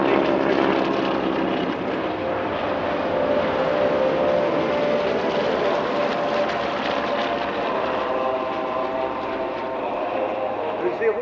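A propeller warplane, one of the Corsairs at the Air Legend airshow at Paris-Villaroche, drones loudly overhead with a steady engine roar that holds throughout. A commentator talks over the sound.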